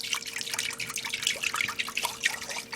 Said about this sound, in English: pour your entire gallon of milk in the pot